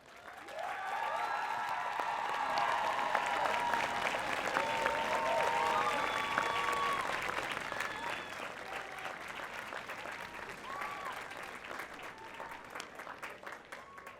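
At a university commencement ceremony, the crowd applauds the standing faculty and staff with sustained, full clapping that swells, holds, then thins out, with some cheering voices mixed in.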